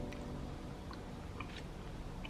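Someone chews dark chocolate with pecan and cherry: soft, close mouth sounds with a few faint crunches, quiet and without talking.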